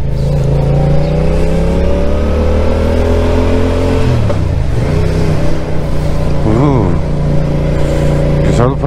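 A Porsche accelerates past on the road, a loud close engine note rising and sweeping by over several seconds, with voices talking over it.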